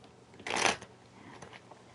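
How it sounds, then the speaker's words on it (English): Tarot cards being shuffled, one brisk riffling burst up close followed by softer card rustles, with no talking. "One more good shuffle."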